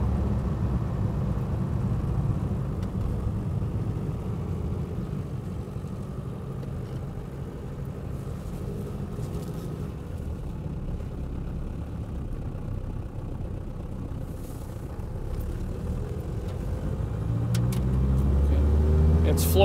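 A 1959 Mercedes 180D diesel sedan runs at full throttle on a road, its low engine drone and road rumble steady throughout and growing louder toward the end, with someone talking intermittently over it.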